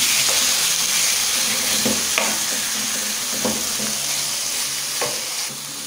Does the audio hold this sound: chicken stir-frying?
yes